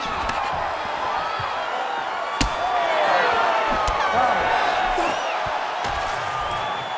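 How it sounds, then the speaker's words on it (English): An arena crowd at a five-round fight cheers and roars steadily in appreciation of a grappling exchange, a continuous wash of many voices with a few sharp thuds and whoops rising out of it. "no surprise, the crowd pops in appreciation"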